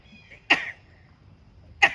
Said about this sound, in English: Oh, let's sneeze.